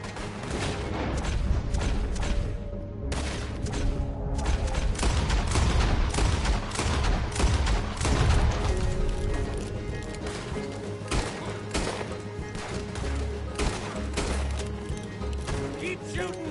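Rapid, sustained gunfire from a Red Dead Redemption 2 town shootout, dense overlapping shots and booms rolling continuously with scattered voices shouting underneath.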